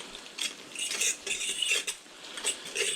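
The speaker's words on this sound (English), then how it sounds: "we will just pinch in a small amount of this flour and then stir that in" A utensil stirs flour into sautéed seafood in a pan over low heat, giving soft, close scraping and clinking strokes in an irregular rhythm, faint and alone without talk.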